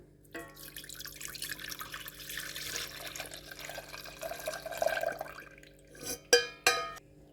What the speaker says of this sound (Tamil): பாத்திரத்தில் நம்ம ஆற வச்ச பால் சேர்த்திக்கலாம்.